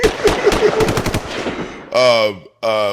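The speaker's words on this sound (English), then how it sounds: "He said put the gunshot." A rapid burst of gunshot sound effects in a song, a quick string of sharp cracks followed by two loud tonal stabs, close and punchy.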